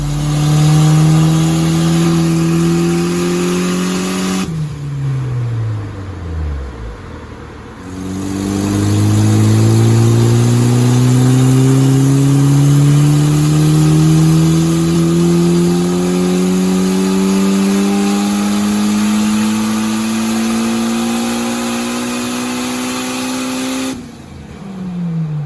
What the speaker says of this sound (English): When that screamer opens, it is freaking raw, ridiculous.